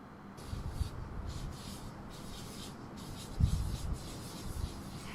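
Chalk dragged across paper in a bullet journal, a soft scratchy rubbing in short strokes with a louder stroke near the middle, heard close and alone.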